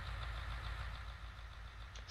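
A truck engine in the Farming Simulator 19 video game idles with a steady, low, rumbling drone, faint and even, with no talk over it.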